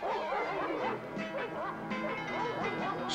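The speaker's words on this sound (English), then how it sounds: "Johan, they've released dogs." Several cartoon dogs bark and yelp in quick bursts at middle distance, mixed with other busy background sounds.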